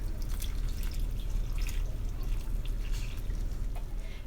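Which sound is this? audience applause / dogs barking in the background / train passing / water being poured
water being poured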